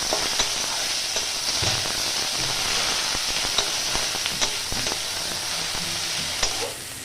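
Chopped onion frying lightly in oil in a pan for a Bengali stuffed vegetable paratha filling, a constant crackling sizzle with scattered sharp pops and occasional stirring knocks, close and steady.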